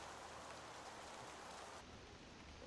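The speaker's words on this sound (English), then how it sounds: "There's raining and it's really gusty, so it's gonna be quite difficult with the landing." Steady rain with gusty wind in the X-Plane 11 flight simulator during a tour of Switzerland, a dense even hiss of rainfall that drops slightly in brightness near the end, with no voices.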